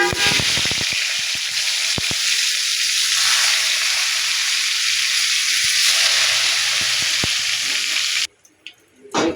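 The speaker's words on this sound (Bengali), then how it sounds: "এবার বেগুনগুলো বেজে নেব" Eggplant pieces fry in hot oil in a pan, a steady loud sizzle and hiss with a few sharp crackles near the start, continuing for about eight seconds before cutting to near quiet.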